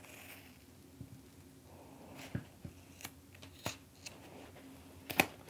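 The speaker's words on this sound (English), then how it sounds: "So I'm just gonna cut my zipper teeth off here and here. I like to use my paper scissors for that" Paper scissors snipping through fabric near zipper teeth for a sewing project, a few faint, sharp, separate cuts over a quiet background.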